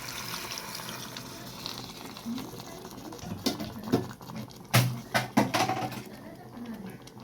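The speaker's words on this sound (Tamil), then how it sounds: "இதில் கொஞ்சம் தண்ணி ஊற்றிக்கிறேன்." Water is poured into a pan of mutton curry masala cooked with ground onion, tomato and coconut paste. Splashing and patter swell into a few louder bursts near the end over a soft, constant kitchen background.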